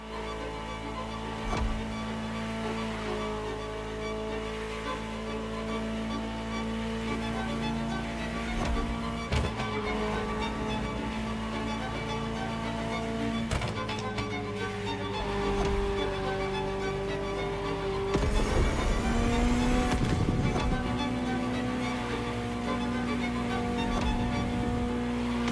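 Ferrari supercar engine in the racing game The Crew Motorfest, a continuous loud drone with rising and shifting pitch, revving up sharply near the end, with no voices.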